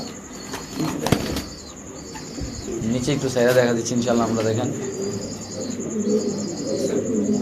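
Spanish fancy pigeons at a pigeon seller's coop give soft cooing and occasional wing flaps, close by and steady beneath ongoing men's conversation.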